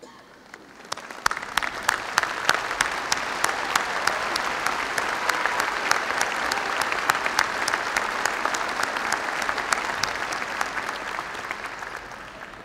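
A large arena crowd at a Northern Kentucky University commencement applauds for over twelve seconds, a dense, sustained roar of clapping with distinct close claps, rising after a quiet start and holding steady.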